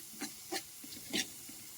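Green chili paste frying in a pan, a soft steady sizzle with a few brief stirring scrapes, faint and close with no voices.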